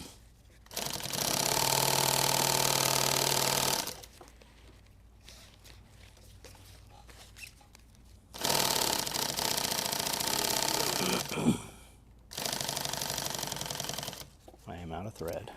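A sewing machine running out of thread runs in three long bursts of fast, buzzing stitching, near and loud, separated by quieter pauses with some talk.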